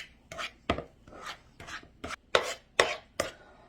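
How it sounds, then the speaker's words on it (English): A spoon or spatula works cake batter in a bowl for a pineapple French cake, giving a series of sharp scraping strokes against the sides in an uneven rhythm, close and clear with no talking. "I'm just going to stir it a little bit more. Make sure it's all blended."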